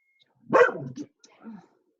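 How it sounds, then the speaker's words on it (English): A neighbour's dog gives a single close, sharp bark followed by a softer, shorter yelp in an otherwise quiet indoor setting. "It's our neighbor's dog that just showed up."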